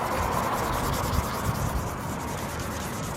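Steady, close rubbing of sandpaper across the front lip of an Acura RSX as the paint is dulled before priming, a continuous even scratchy hiss with no pauses.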